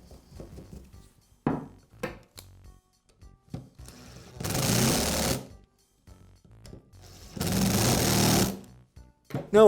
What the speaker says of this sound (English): Now I'll reinstall the upper half of the motor housing onto the lower half. And secure it with the screws.